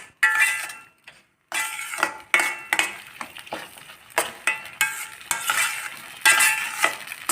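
Spicy kavuni rice pongal with coconut is stirred in a pan. A spoon scrapes and clinks against the metal in repeated close strokes, with a faint sizzle underneath and no talking.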